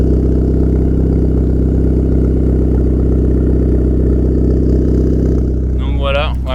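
A Renault Sport car fitted with a stainless exhaust and its original catalytic converter idles with a steady, deep, loud drone, close by; a voice speaks briefly near the end.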